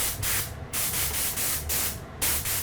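Short hissing bursts of water sprayed from a hose, about five close, loud spurts separated by brief pauses.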